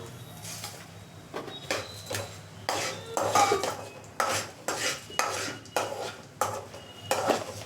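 Coriander seeds are stirred while dry-roasting in a pan for curry leaf powder, with repeated scraping and rattling strokes of a spoon against metal in an uneven rhythm, close and fairly quiet.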